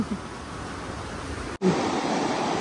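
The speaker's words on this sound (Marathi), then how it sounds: "पाण्याचा आवाज यायला लागलाय, म्हणजे आपण जवळ आलेलो आहे." Steady rushing water in the Konkan region fills the scene as a broad, even wash of noise, briefly cut off once before resuming.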